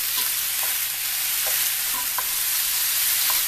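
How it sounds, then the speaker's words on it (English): A wooden spoon chops carne asada in a frying pan over medium heat on a gas stove, with a constant loud sizzle and a few soft, irregular scraping taps. "we're going to start chopping up our carne asada."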